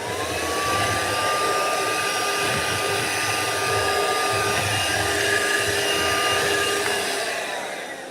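A vacuum cleaner clearing dust from OO gauge model railway track runs with a steady, loud motor whine and whoosh from start to finish, easing off slightly at the end.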